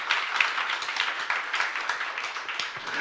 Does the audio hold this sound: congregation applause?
yes